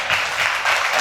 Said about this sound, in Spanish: Cuando usted aplaude así, aplaude al Señor.